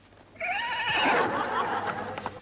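A horse whinnies loudly, a long shrill neigh that wavers and falls in pitch, then trails off into rough breathy snorts.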